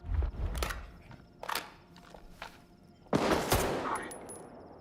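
Gunfire in the S.T.A.L.K.E.R. 2 video game: several sharp shots in an uneven rhythm, with one heavier burst near the end and a little game noise in between.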